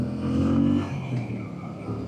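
A Moto Guzzi V7 Sport motorcycle engine pulls with a steady, rising drone as the throttle opens on a test ride, loud and close with no talking over it.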